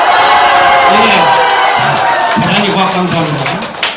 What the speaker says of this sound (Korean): 다시 한번 응원의 박수!